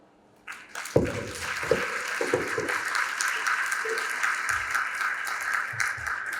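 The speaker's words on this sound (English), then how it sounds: "A round of applause again." Audience applause fills a hall at an official opening ceremony, starting abruptly and holding as a dense, steady wash of clapping, with a few faint voices and low thumps mixed underneath.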